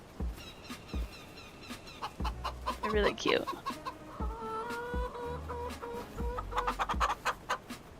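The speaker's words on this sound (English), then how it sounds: "Then our chickens. Look at all the baby chicks" Baby chicks on a Farming Simulator 25 homestead farm cluck and peep in quick repeated bursts, fairly close, with other farm animal calls mixed in and a voice speaking briefly over them.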